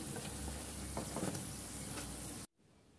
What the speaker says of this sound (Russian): Жарятся они очень быстро.